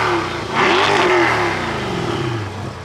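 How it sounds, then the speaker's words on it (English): A brand-new Corvette C8's engine is revved up close, jumping quickly to a loud roar and holding a strong, steady drone before easing off slightly. "Leopoldo, go to the back of the car while I rev this."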